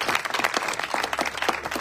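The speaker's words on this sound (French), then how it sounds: "Je vous prie de pouvoir aussi l'applaudir pour l'honorer." A church congregation applauds together, dense overlapping clapping that holds at a moderate level throughout.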